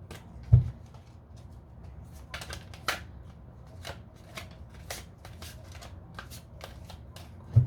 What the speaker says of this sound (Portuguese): Vou dar uma baralhada.